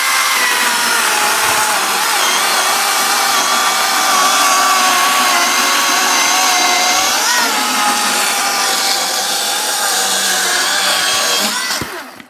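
Dong Cheng battery-powered chainsaw cuts slowly through wood, a sustained whining buzz that holds steady for about twelve seconds before cutting off.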